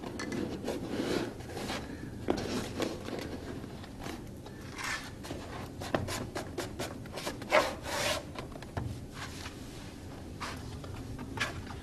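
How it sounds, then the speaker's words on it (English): A knife scores and slices through vinyl flooring at an external miter on a coved wall edge, giving quiet scraping, rasping strokes in short bursts with no talking. "To cut the external miter, bring the knife down the side of the wall to the top of the cove."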